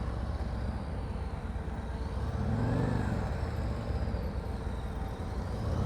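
A motorcycle engine runs steadily at low speed during slow-speed riding practice, rising slightly mid-way, with wind noise around it.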